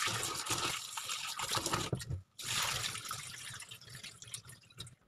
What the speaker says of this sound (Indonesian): Pertama kita cuci dulu kacang kedelainya ya, karena memang banyak kali debunya tuh.